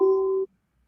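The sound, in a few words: telephone ringing tone on a call-in show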